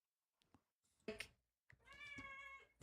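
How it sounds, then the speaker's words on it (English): A cat meows a few times: short separate calls, then one longer drawn-out meow with a clear tonal pitch, fairly close, set against near silence. "Again with the cat."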